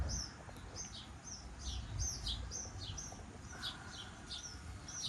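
A yard full of songbirds gives off a steady scatter of high chirps and tweets, moderately close and fairly quiet, with no talking over the outdoor ambience.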